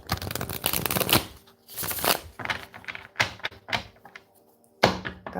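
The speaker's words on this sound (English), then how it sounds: "A few more shuffles." Tarot cards being shuffled in several separate bursts of quick riffling and flicking, close and fairly loud, with brief pauses and soft taps between rounds and no talk.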